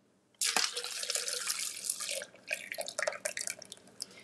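Smoothie ingredients poured over ice into a Ninja blender jar, a sudden close splashing rush of liquid that runs steadily, then breaks into uneven glugs and trickles.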